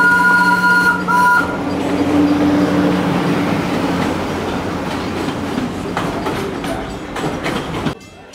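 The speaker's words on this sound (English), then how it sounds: "Here comes the train." A train rolls past at Animal Kingdom, loud and close, with a rumbling rush, clattering wheels and a brief high tonal whine early on, fading out abruptly near the end.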